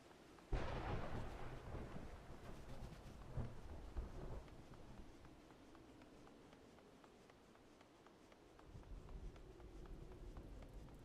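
Thunder rolls through a rainy Final Fantasy XIV game scene, with a sharp crack followed by long rumbling that fades and swells again over steady, soft rainfall, with no talking.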